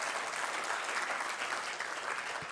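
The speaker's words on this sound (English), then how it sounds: "A round of applause for them, please." Conference audience applauding steadily and fairly loudly at a technology event, dense continuous clapping from a crowd without pause and with no voices over it.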